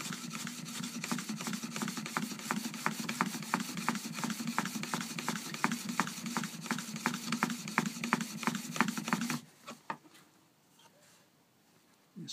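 A chisel is honed on a fine stone in a Trend sharpening system, giving a steady, close rasping rub in quick regular back-and-forth strokes for about nine seconds before it stops and goes quiet.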